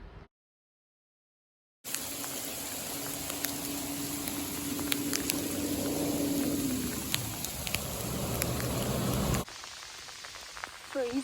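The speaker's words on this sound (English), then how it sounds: "Freezing rain." Freezing rain falls at Mount Wellington / Kunanyi, a steady crackling patter of icy drops after a moment of silence, with a faint engine-like hum partway through before the sound cuts to a quieter interior.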